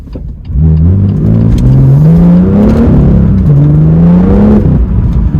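A BMW M2 with the N55 engine and manual gearbox revs up in rising, rolling pulls, dipping briefly before climbing again, loud and close with no voices.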